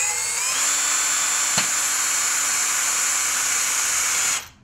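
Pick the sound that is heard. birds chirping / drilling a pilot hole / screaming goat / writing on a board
drilling a pilot hole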